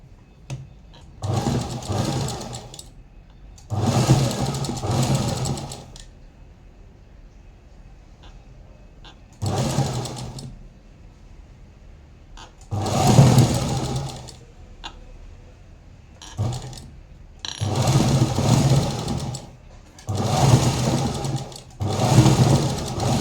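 Sewing machine stitching lace onto the sleeve of a puff-sleeve blouse, running in repeated bursts of steady motor whir separated by short pauses, close and fairly loud with no talking.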